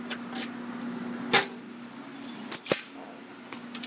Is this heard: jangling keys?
yes